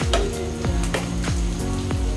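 Garlic and ginger dropped into hot oil with cumin (jeera) and coriander sizzle steadily, with several sharp crackling bursts and spoon scrapes over a continuous frying hiss.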